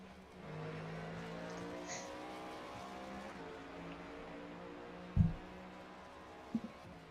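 Race cars circle the Circuit of the Americas (COTA) track in the iRacing sim, their engines a faint, steady droning whine with a couple of brief sharp bumps near the end.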